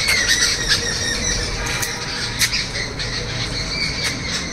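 Birds at a house calling near and loud: repeated sharp squeaks and squawks in irregular bursts over a constant background hiss, with no voices.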